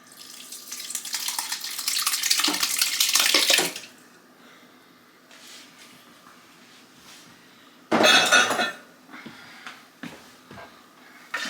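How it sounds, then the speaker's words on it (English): Diced home-canned tomatoes pour into a chili pot with a wet, splashing rush for a few seconds, then fall quiet, followed by a second short burst of liquid sloshing and small clinks near the end. "Okay, so next up we are adding 6 cups of diced canned tomatoes."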